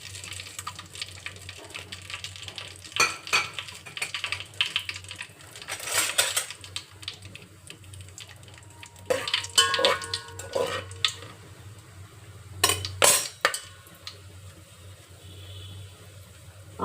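Whole cinnamon, cloves and cardamom go into hot oil in a pan for Telugu bagara rice, giving scattered crackles, clinks and short sizzling bursts at close range, with no talking.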